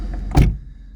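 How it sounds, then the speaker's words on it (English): A Vauxhall Vectra V6 door swings shut with a single solid thunk, near and fairly loud, over the steady idle of the running engine that follows. "let's close the door."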